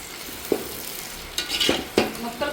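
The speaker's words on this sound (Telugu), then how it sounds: "ఇప్పుడైతే ఒకసారి కలిపేసుకుందాం." Fish curry being stirred in a pan, with a soft sizzle underneath and a few scraping knocks of the spoon against the pan, near and fairly quiet.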